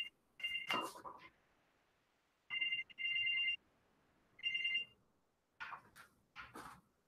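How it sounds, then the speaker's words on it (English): A mobile phone ringtone sounds in repeated tonal bursts with pauses between them, fairly clear and close, alongside brief bits of other noise. "My phone started ringing and stuff in the middle of it."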